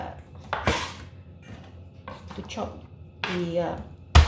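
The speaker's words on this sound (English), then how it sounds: "This is how we chop garlic." Garlic being chopped and smashed with a knife on a kitchen board while cooking French beans with prawns: a few sharp knocks and thuds spread out, with a loud smack at the end.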